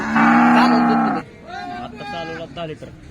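A red cow moos loudly and long at the Baramati cattle market, a strong drawn-out call followed by quieter lowing and market noise.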